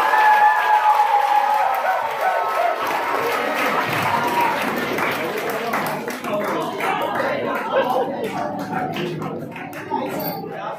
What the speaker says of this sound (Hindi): यहाँ पे जोरदार तालियां